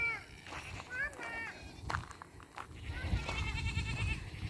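Goats bleat repeatedly, several wavering cries overlapping near and farther off, with outdoor background noise and brief talking underneath.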